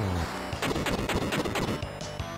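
Bomb attack in the Final Fantasy Mystic Quest game, heard as a rapid run of crackling synthesized bursts lasting about a second.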